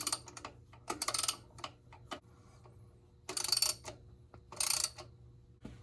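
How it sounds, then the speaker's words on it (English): Quick ratcheting clicks in short bursts as the bolts of a Holley two-barrel carburetor are tightened in a crisscross pattern on a classic Ford truck, with light metallic taps and pauses between runs. "you're going to bolt your carburetor down in a crisscross bolt pattern"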